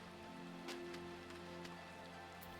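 Steady rain falling in Final Fantasy XIV, a soft continuous patter with a few sharper drop hits over a low humming game ambience, no talking.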